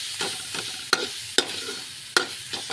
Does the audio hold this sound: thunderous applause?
no